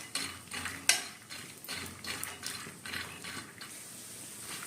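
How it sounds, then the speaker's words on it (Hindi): Peanuts fry in oil in a pan over a low gas flame, with a soft continuous sizzle broken by occasional stirring scrapes and light clinks. "मूंगफली ली है, अब हम इसे फ्राई करेंगे।"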